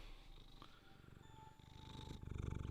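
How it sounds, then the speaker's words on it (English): A house cat purrs close by in a steady, rumbling pulse that grows louder and more pronounced toward the end, with no talking over it. "She's full of purrs and she wanted attention"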